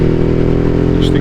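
Ducati Hypermotard 821 motorcycle ridden on a village back road, its engine holding a steady, loud mid-pitched drone throughout with a brief higher whine near the end.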